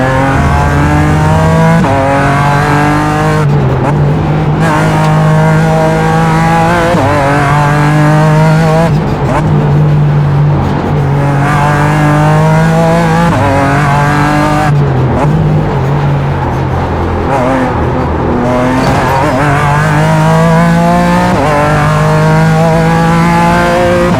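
Race cars lap the Detroit circuit in a Sports Car Challenge race, heard from onboard as a loud, continuous engine howl that climbs through the gears and drops sharply on each upshift and under braking, repeating across the run.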